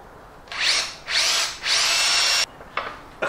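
A power drill whirs in three loud bursts close by, followed by a couple of short blips.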